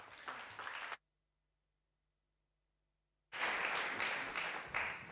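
Applause from an audience at a university presentation in Barcelona: a burst of clapping cuts off into silence, then returns as full, sustained applause.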